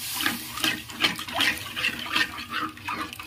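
Water poured into frying masala in a pan while cooking a Bengali snakehead fish-head curry, giving a close splashing, bubbling rush with uneven surges throughout.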